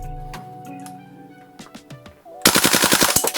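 A Rare Arms AR-15 airsoft rifle with a steel chamber upgrade fires a quick string of about ten sharp, close shots, preceded by a brief low mechanical hum and a few clicks.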